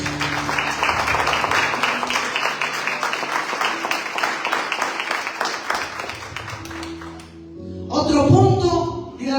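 A church congregation claps loudly in praise during a service, sustained dense applause that fades out after about seven seconds before music and voices return.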